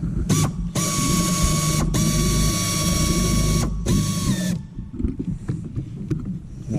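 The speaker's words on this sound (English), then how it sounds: "I kind of punched the head of the rivet out" Metal-on-metal mechanical clicking and grinding while punching out an aircraft sheet metal rivet head, with repeated sustained ratcheting bursts separated by short pauses, then a few lighter scattered taps and knocks.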